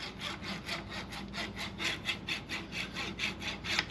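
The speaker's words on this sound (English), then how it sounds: "to take a dull little hacksaw" Dull little hacksaw slowly trimming off a transfer tube: steady back-and-forth rasping strokes, about four per second, close and moderately loud, with no talking.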